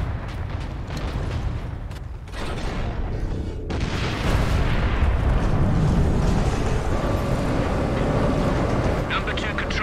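A heavy cannon powered by orks firing in Warhammer 40k: Space Marine, heard as a deep rumbling boom and sustained roaring blast over dense battle noise, with a voice talking over it.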